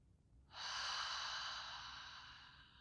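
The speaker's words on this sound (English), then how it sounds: "Breathing in." A single slow, deep inhale during guided meditation begins after a brief quiet moment, then fades gradually. The soft, airy rush is close and alone, with no talking.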